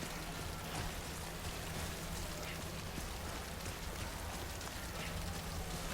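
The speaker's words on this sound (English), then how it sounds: "Now the rain's thickened up again." Steady heavy rain pours down across an outdoor landscape in the Death Stranding video game, a dense, continuous hiss and patter that holds at an even level from start to finish, with no voices.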